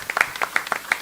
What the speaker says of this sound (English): Let's give them a round of applause for answering.